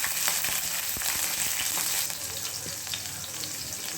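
Cumin seeds and finely grated green chillies hitting hot oil for lemon rice: a loud, close crackling sizzle with sharp pops and stirring clicks, easing a little partway through.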